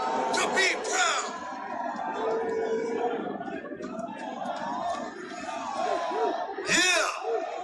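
Crowd at the Juggalo March by the Lincoln Memorial in Washington, D.C., yelling and whooping in bursts, with shrill shouts at the start and near the end over a steady rumble of voices outdoors.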